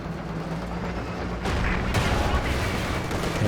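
Tank fire in the World War II strategy game Company of Heroes 2, with a Panzer shooting at a T-34, comes through as a sudden loud boom over a dense, rumbling battle din, followed by a second blast shortly after.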